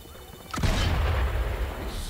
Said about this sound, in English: I hear machine gun fire. Why is there machine gun fire?